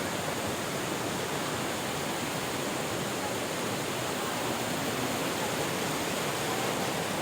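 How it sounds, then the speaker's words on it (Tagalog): Constant hissing rush of the waterfall at Tinoyan Falls, an even, unbroken wash of falling water heard up close. "Malapit tayo sa falls. Sobrang ganda, malamig."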